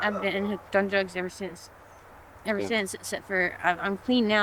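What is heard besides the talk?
No everyday noise stands out behind the speech.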